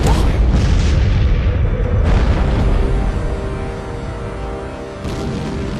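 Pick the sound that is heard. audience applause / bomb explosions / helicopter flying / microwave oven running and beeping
bomb explosions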